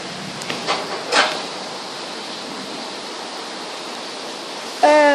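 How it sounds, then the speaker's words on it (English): Heavy rain pours onto a flooded porch and yard, a steady dense wash of water noise throughout, with a few brief voices and faint sounds early on and a short spoken exclamation at the end. "So much rain."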